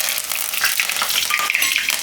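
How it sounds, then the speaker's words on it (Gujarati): Mustard seeds, cumin and whole spices dropped into hot oil for a Gujarati mixed dal vadi curry, a dense close crackling sizzle with sharp popping bursts, loud and continuous with no talking. "હવે તેલ આપણું ગરમ થઈ ગયું છે. તો આમાં આપણે નાખશું થોડીક રાઈ અને જીરું અને આ બધા આખા મસાલા"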